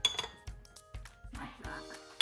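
A spoon scraping and clinking against a glass jar while salad ingredients are pushed out to the edges to form a layer, a run of close, irregular taps and scrapes.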